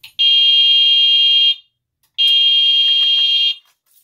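An Edwards Genesis fire alarm horn sounding coded blasts during a walk test: two loud, piercing electronic tones, each lasting over a second, separated by a short silence.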